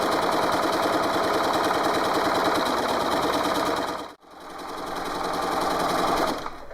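A sewing machine runs steadily at close range, stitching piping onto a cushion cover in a fast, even mechanical chatter, stopping briefly, then starting up again before slowing at the end.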